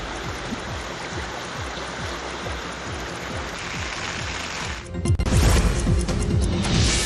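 The Aghanashini river in flood near Baruru, Sirsi, running above danger level during heavy rain, a loud continuous rush of water that swells into a heavier, nearer roar partway through.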